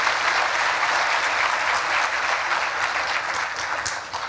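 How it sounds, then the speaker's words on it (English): A big round of audience applause during an inspirational talk, steady dense clapping from a large crowd at full strength before gradually tapering off at the end. "Can we have that big round of applause for that inspiration?"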